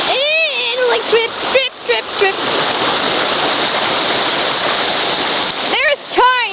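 Rainwater runs and splashes steadily after a rainstorm at a home, a loud continuous rushing wash like a small waterfall, with voices talking over it at the start and end.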